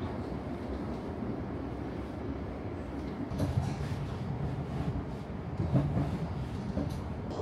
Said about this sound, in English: This is my first time riding a London Overground train from Euston